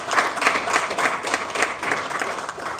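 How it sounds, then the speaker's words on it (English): Crowd applause at the Pan African Pyramid Awards, a full room clapping in a lively, rhythmic pattern, loud and close, with individual claps standing out over the steady wash. "Give them a big round of applause"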